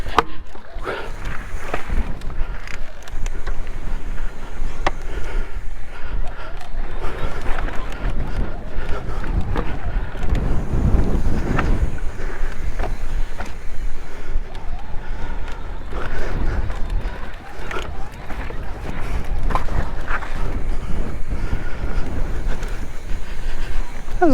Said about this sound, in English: as you can see, the wind is cranking